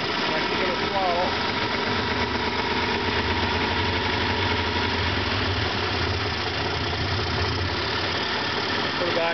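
A 40 hp Johnson outboard motor runs in forward gear with throttle applied, a steady, close, buzzing drone with a knocking undertone that holds level throughout.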